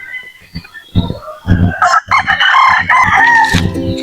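Native chickens crow and cluck close by while being fed in the early morning, with a rooster's crow rising over repeated clucks and a busy, loud flock that includes chicks.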